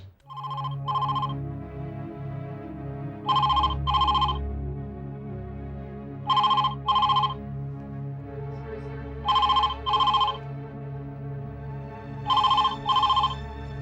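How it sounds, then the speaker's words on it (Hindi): A telephone rings in repeated double bursts, five paired trills spaced a few seconds apart, loud and clear over a low background music bed. "फोन आ रहा है"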